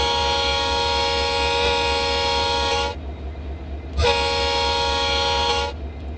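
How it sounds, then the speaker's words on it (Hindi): Two long, loud blasts of a locomotive horn in Train Simulator 24, each a steady multi-tone chord lasting about three seconds with a brief gap between, sounding alone over a low engine rumble. "मैं भी हॉर्न दे देता हूँ।"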